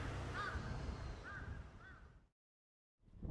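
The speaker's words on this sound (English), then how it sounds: "what I'm hearing are birds chirping" Birds call in the deserted, traffic-free Fukushima disaster zone, a few faint crow-like caws spaced apart over quiet open air before the sound drops briefly to silence.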